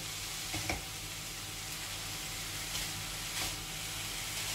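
Ground meat sizzles steadily in a hot frying pan, a continuous bright crackle with a few louder pops and stirring scrapes, close and alone with no voices.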